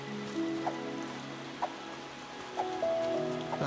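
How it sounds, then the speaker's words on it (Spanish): Rain falling in the video game Luma Island, a soft continuous patter with scattered droplet ticks and faint game tones, no talking. "y ahora está lloviendo"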